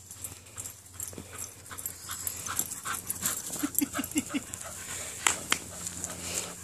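A dog pants rapidly in short, quick bursts while playing fetch, fairly close, amid faint background noise and scattered taps.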